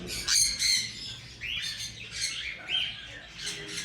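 Pet parrot, a king-size bird among rosellas and ringnecks, giving a run of sharp, bright calls and chirps in short bursts, close and fairly loud.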